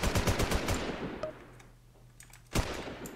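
Rapid bursts of automatic gunfire from a gang shootout in GTA roleplay, a dense rattling volley, then a pause and another sharp burst of shots.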